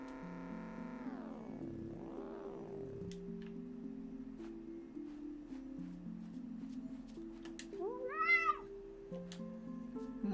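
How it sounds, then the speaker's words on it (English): Cartoonish cat meows from the video game Calico, several rising and falling mews over a steady game music backdrop, with a louder, brighter meow near the end. "I'm gonna look at the cats and grab them."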